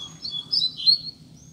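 A papa-capim seedeater bird calls in the bush, a few short high chirps close by over a low background hum, with no talking.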